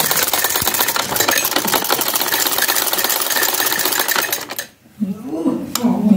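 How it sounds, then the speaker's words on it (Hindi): Sewing machine stitching lace onto a folded chiffon dupatta edge, a steady fast needle rattle running for about four seconds, then a short pause before the motor starts up again. "ऊपर लैस रख के सिलाई लगाते हैं।"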